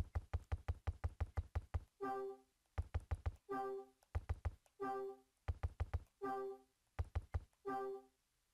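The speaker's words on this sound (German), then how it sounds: "Klopfen." Knocking on a door in the video game Hotel Dusk: bursts of quick, hard knocks in rapid groups, each followed by a short ringing game chime, repeating several times without talk.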